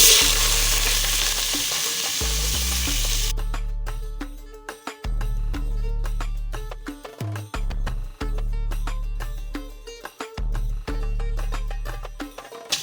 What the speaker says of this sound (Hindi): ऑयल गर्म हो गया तो हम डालेंगे इसमें प्याज